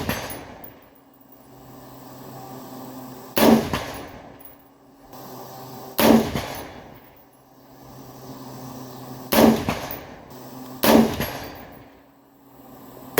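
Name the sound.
AR rifle gunshots at steel target 100 yards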